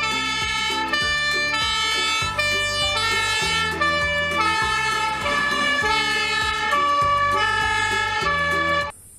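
A toy fire truck siren plays loud, electronic wailing tones in a repeating stepped pattern, close and steady, with no voices.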